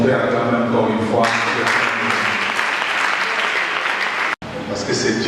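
A wedding congregation at a religious ceremony breaks into loud, sustained applause and cheering, dense clapping from many hands filling the room for several seconds, with a brief cut near the end.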